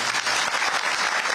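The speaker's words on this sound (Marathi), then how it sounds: "त्याच्यामुळे या मोठ्या नेत्यांसाठी एकदा आपण टाळ्या वाजवल्या." Crowd at a farmers' protest rally applauding its leaders, a dense, steady burst of many hands clapping that fills the whole moment, loud and close.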